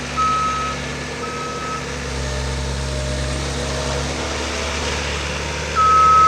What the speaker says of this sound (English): Does have the backup alarm.